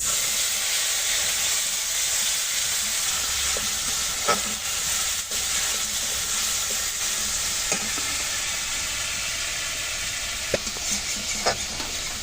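Turmeric mixed with water hits hot oil in a pan for a Bengali fish curry, setting off a loud, steady, close hissing sizzle with occasional utensil clicks.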